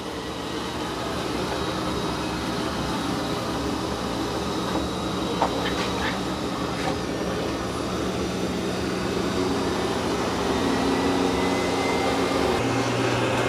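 A robot vacuum cleans carpet with its mop pads lifted, giving a steady, loud whirring drone that runs through the whole stretch with a few faint clicks and a slight shift in tone near the end; no one speaks.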